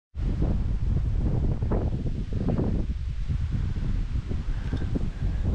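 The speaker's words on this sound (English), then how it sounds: "It is really windy today" Strong wind buffeting the microphone outside an abandoned house in Scotland, a loud, constant low roar and rumble with gusty surges throughout.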